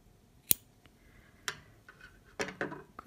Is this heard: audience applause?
no